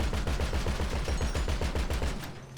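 Rapid automatic gunfire in GTA 5 Online, a steady burst of evenly spaced shots rattling for a couple of seconds, close and loud, then tapering off.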